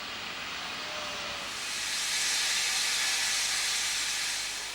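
A Somerset and Dorset steam train sets off toward Bournemouth, its steam hiss building to a loud, broad rushing roar that holds steady, without speech.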